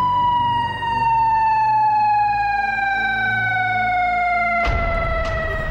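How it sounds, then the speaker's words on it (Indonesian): A loud ambulance siren wails continuously at close range, a steady rising-and-falling electronic tone, with a couple of brief sharp knocks near the end. "Siapa yang bawa ambulannya?"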